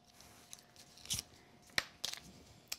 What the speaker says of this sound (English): Just peel off the other side here